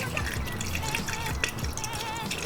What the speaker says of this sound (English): Now we're gonna be filling up with coolant now that everything's connected